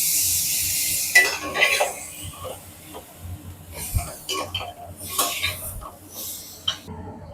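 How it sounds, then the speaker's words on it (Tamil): Tomatoes go into a pan of sautéed onion, garlic and ginger for a chapati kurma, with faint sizzling and sharp spoon-and-pan clinks at intervals while someone talks nearby. "நல்லா வெங்காயம் பூண்டு இஞ்சிலாம் நல்லா வதங்கிருச்சு இப்போ நம்ம தக்காளி சேர்த்துக்கணும்"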